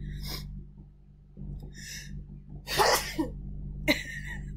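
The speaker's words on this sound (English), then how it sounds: "That was a pathetic attempt at sneezing." Several small sneezes in quick succession, the third strongest, each a short breathy burst close by, with a low hum running underneath.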